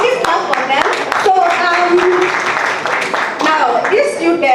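A crowd at a Bitcoin unconference claps for top students: scattered, sharp hand claps come and go under ongoing talking and voices.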